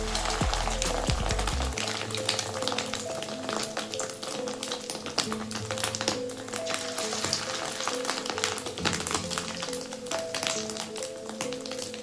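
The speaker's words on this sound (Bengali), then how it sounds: "বেসন দিই তো একটু ওই জন্য ফাটছে আর একদমই না বেসন দিলে বেশি ফাটতো" Fish roe fritters bound with gram flour fry in hot oil in a karahi, giving a close, dense sizzle full of rapid crackles and pops that continues evenly throughout with no one speaking.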